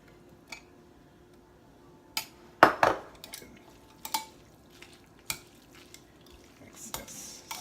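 A utensil stirs lemon garlic pasta sauce with tomatoes in a pan, giving scattered scrapes and sharp clinks at irregular intervals against near silence.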